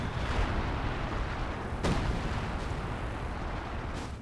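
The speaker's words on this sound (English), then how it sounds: "Is that major artillery?" Artillery in the strategy game Company of Heroes 2 booms during a 2v2 battle, a dense, loud low rumble of bombardment with one sharper blast near the middle and fainter impacts after.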